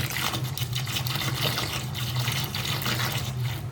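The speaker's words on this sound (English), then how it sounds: "we were mixing 3 gallons of warm tap water with about 16 ounces of this Pour 15 cleaner degreaser" Warm tap water pours steadily into a container to make a degreaser cleaning mix for a four-stroke cylinder head, a loud, continuous splashing rush with no break.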